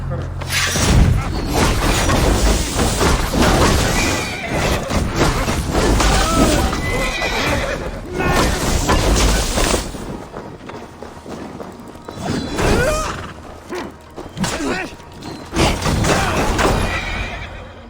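Horses neigh and whinny amid hoofbeats, crashes and a dense score in the Assassin's Creed Valhalla video game, loud and continuous, with voices talking over it.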